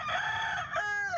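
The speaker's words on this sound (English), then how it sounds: "hundreds of roosters, part of a cockfighting ring" A rooster at a cockfighting ring crows a single drawn-out call, fairly close and clear, with faint farmyard background.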